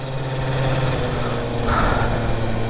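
A motor scooter's engine while riding, a steady droning buzz with a low hum running continuously and close throughout.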